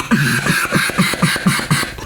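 A duck call quacking in a steady series of about seven short, punchy notes, close and fairly loud, with no talking.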